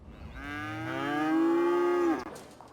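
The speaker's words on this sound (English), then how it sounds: "You know, all this mooing, it must stink too." A single long, loud cow moo from a farm in the Cities: Skylines city-building game, rising and holding steady before cutting off, heard alone without talk.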